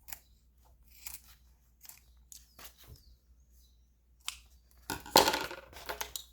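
Scissors snipping off the excess end of a zipper while crafting an insulated water bottle holder, several close, sharp cuts in irregular rhythm, the last ones loudest.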